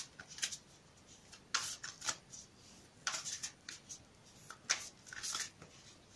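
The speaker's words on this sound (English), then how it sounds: "Another shuffle." A deck of cards being shuffled up close, several short riffling bursts in quick succession with brief pauses between them, no talking.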